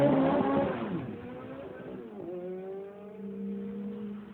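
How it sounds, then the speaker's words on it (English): A Ferrari 430 engine fires up at the push of a start button, a sharp loud bark settling into a steady idle with a brief rev rising in pitch, close by. "Push this button and a bunch of sophisticated electronics gives you a red hot start."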